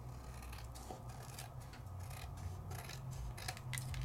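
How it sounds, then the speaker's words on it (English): Scissors snip and rasp through crinkly mirror paper at a craft table, a steady run of close, loud cutting and rubbing with papery crackle throughout. "the mirror is very loud paper"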